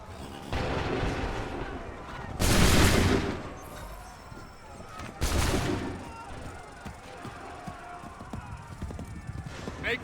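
Two heavy musket volleys ring out in the Assassin's Creed 3 battle, each a loud, broad crackling burst lasting about a second, with rumbling battlefield ambience between and after them.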